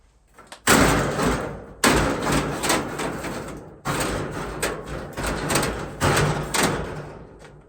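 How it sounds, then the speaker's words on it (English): A garage door crashes down, a series of loud, close metallic slams and rattling thuds, each hit sharp and followed by a rumbling decay. "Looks like we're going to need a new garage door."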